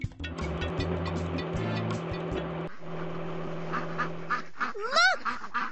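Cartoon baby ducks quack in a run of short calls over a layered musical backing, ending in a rising, squeaky honk.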